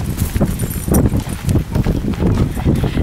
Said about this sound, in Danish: Holly er en meget stor hest